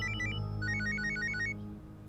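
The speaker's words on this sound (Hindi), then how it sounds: "फोन आ रहा" A phone ringtone rings in a domestic drama scene, a bright repeating melodic trill in quick bursts that plays clearly for about a second and a half before cutting off, with a low hum underneath.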